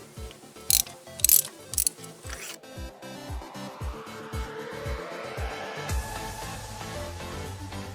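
A ratchet with a 5/8 socket works spark plugs out of a 2001-2005 Honda Civic, clicking in quick repeated bursts at close range, then settling into a steadier whirring ratchet run.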